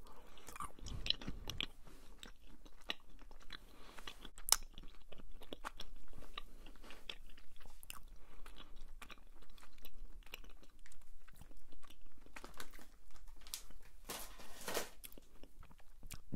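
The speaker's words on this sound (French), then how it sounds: "c'est des Airheads. Donc voilà, j'ai ouvert le paquet, on va goûter ça" Cherry-flavoured Airheads chewy candy being chewed close up in a quiet setting, with steady soft sticky mouth sounds and occasional crunchy clicks, no talking.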